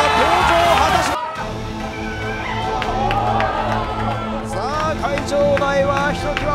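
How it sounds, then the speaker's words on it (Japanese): Loud arena crowd roaring and cheering at a pro wrestling show during a wrestler's entrance, a sustained wash of shouts and whistles with scattered claps, entrance music underneath and an announcer talking over it. "場内はひときわ大きな歓声が起こりました。"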